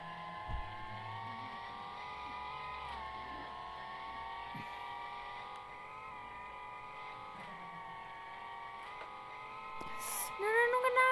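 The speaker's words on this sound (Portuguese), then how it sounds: "O carro tem força suficiente para sair." A car engine in a video game hums with steady tonal harmonics that drift up and down as the car is driven, ending in a short burst of louder effects.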